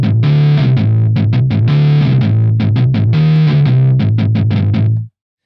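A synthesizer played through a distorted guitar amp, producing thick, gritty chugging notes in a fast rhythmic pattern with short choppy hits and a few sustained chords, loud and alone, cutting off abruptly at the end.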